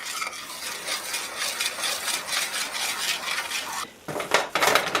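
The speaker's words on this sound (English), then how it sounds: "Then you're going to quickly stir this in." Flour and almond extract stirred into a pot on the stove, a spoon scraping and clinking against the metal in quick repeated strokes, close and clear, with a brief pause and then harder, faster scraping.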